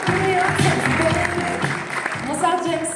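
A crowd claps for the president of the CEL coming on stage at the Paris Games Week 2025 press conference, with steady applause running under loud stage music throughout.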